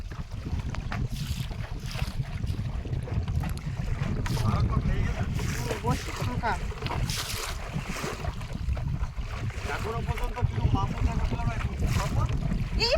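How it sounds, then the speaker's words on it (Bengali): Strong wind blows hard across a river with a fast current, a loud, gusting rumble buffeting the microphone nonstop from near, with the lapping and rush of water from a boat beneath it. "আর কিন্তু প্রচণ্ড হাওয়া হচ্ছে নদীতে আর স্রোতও কিন্তু খুব"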